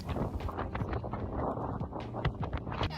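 Steady wind buffets the microphone throughout, a dense rumbling roar with gusty swells and no voices, outdoors at the Dutch Grand Prix.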